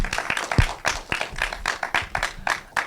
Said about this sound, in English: let's do it a big round of applause.